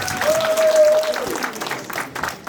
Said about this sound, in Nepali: हामी एकचोटि ताली बजाइदियौँ